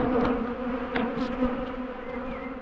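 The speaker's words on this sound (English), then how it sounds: "All of these bees are angry." A thick, continuous drone of angry honey bees hums at the hives, many wings buzzing close at once, with a few louder individuals passing near.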